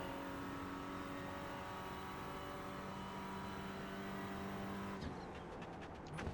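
Renault Clio race cars in the iRacing simulator at Lime Rock hold a steady, droning engine note at high revs, loud and continuous, ending in a few sharp clicks.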